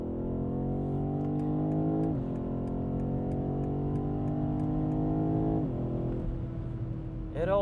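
A 2020 BMW M850i Gran Coupe with its V8 and ZF eight-speed automatic pulls hard at full throttle in Sport Plus mode, its loud engine tone climbing steadily and dropping sharply at each upshift, about two shifts heard.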